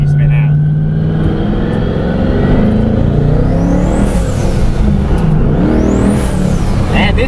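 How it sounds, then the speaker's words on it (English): A 2015 twin-turbo Mustang GT launches from a dig. The engine roars loudly and steadily for the whole stretch, with rising whistles as it pulls, close and continuous. "I mean, the sound these turbos make is insane."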